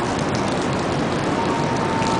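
Heavy thunderstorm rain pouring down in Philadelphia, a dense, steady hiss of falling drops close by with no gaps and no voices.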